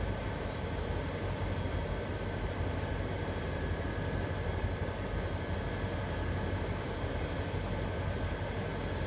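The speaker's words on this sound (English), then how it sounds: "Yeah, the train is gently rolling back." A steady, continuous low rumble of a Southern Pacific SD45T-2 freight train in Train Simulator 2018 rolling on Donner Pass, with a constant mechanical drone and faint high hiss, no voices.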